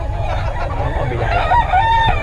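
Young gamecocks, stags, crow loudly and close by, a strained, wavering call held for about two seconds over a steady background din.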